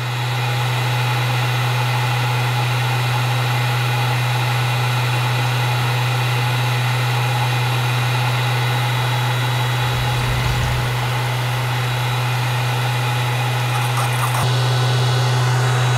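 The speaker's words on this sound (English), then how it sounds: "The pump stops, separator slows down" An Alfie 500 separator and its pump run with a steady, loud mechanical drone and a strong low hum, holding constant throughout with small clunks and shifts near the end and no talk.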